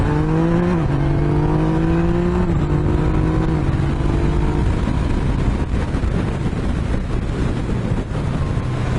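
A Yamaha Niken three-wheeler with the MT-09 engine drones steadily under way, its pitch stepping through quick-shifter upshifts early on, then blending into heavy rushing wind noise.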